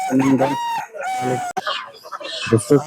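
Roosters and chickens at a weekly poultry market in Fatullah, Narayanganj, crowing loudly and clucking close by in several overlapping calls, with a sharp knock partway through.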